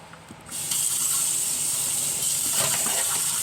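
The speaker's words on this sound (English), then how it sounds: "If it's like daily fresh water, then you will drain the water." Fresh water drains from a basin during tool decontamination, opening with a quiet moment before a loud, steady rushing gush of water that runs without a break to the end.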